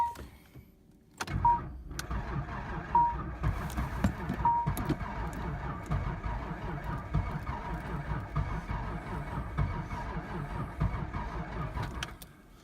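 A Nissan 300ZX with a dead battery whirs as its starter tries to crank the engine, a steady labouring grind lasting about eleven seconds with faint rhythmic pulses, loud and close with no talk.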